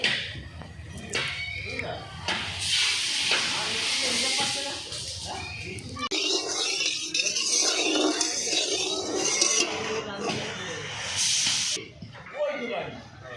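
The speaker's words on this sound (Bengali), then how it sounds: "কড়াই গরম হয়ে গেছে কড়াইয়ে তেল দিয়ে দিচ্ছি" Oil heats in a hot wok, giving a steady hissing sizzle that swells and fades while a person talks over it throughout.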